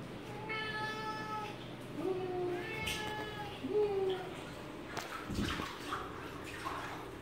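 A cat being bathed lets out several drawn-out, wavering meows in a row, close and fairly loud, with water splashing and sloshing afterward and a person speaking softly in between.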